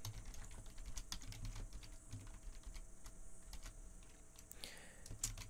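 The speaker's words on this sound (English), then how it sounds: "And I just realized you can't see what I'm typing." Rapid typing on a computer keyboard during a scripting session, a steady patter of sharp key clicks close to the microphone with a few louder strokes, no voices over it.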